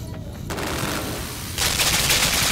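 A gun fires in the dark video game Limbo, a loud, continuous crackling burst of shots that swells louder toward the end.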